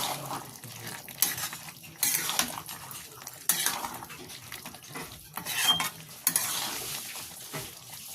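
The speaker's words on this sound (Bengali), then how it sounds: "আরও একবার নাড়াচাড়া করে নিচ্ছি" Pea ghugni stirred in a kadai with a metal spoon, repeated scraping and clinking strokes against the pan in uneven bursts with pauses between, close and moderately loud, no talking.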